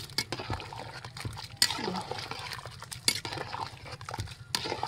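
Metal spoon scraping and clinking inside a pot of sopas, milky macaroni soup being stirred, with soft liquid sloshing and a few sharp clanks over a low hum.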